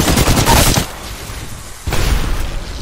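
R-99 submachine gun fire in Apex Legends, loud dense bursts of rapid automatic shots in two clusters separated by a quieter gap, with no talk over the firing.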